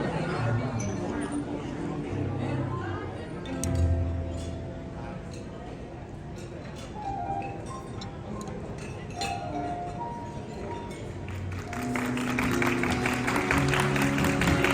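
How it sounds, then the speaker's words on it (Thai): Wedding guests in Thailand applaud the bride and groom amid clinking glasses and crowd chatter, with a voice on a sound system talking over the steady clapping that swells again toward the end. "เสียงปรบมือต้อนรับเจ้าบ่าวเจ้าสาวของเราอีกครั้งหนึงครับ"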